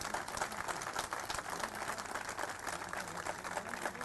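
Steady, dense clapping from an audience at a felicitation program with Chief Minister Manohar Lal, heard faint and distant, continuous for about four seconds with no clear speech over it.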